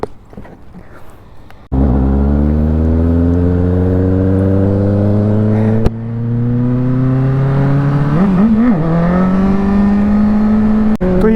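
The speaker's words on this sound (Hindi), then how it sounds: "अभी हम दोनों बाइक को एक साथ राइड करने वाले हैं, थोड़ा सा भगा के देखते हैं भाई कैसे भागती है" Two 2025 Kawasaki motorcycles, a Ninja 650 and a Ninja ZX6R, start up and accelerate together, engines roaring loudly with rising pitch through gear changes, close and continuous.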